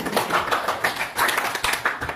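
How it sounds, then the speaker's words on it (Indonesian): Students in an Indonesian Quran Hadith classroom clap for a classmate in a short burst of uneven, close hand claps that swell and dip in several waves. "tepuk tangan untuk Nabila"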